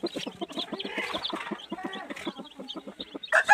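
A hen clucking softly in a nest with newly hatched chicks, steady close murmuring clucks with a few brighter chirps near the end and no talking.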